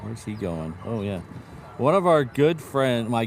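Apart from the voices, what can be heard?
None of the usual background noises is heard.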